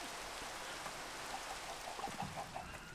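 Steady rain falls in the Minecraft game, a constant soft hiss at low volume, with faint chicken clucks coming through partway in.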